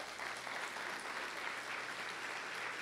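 A church congregation applauding during a sermon, a steady wash of clapping from many hands that sounds distant and fairly faint, continuing evenly with no talk over it.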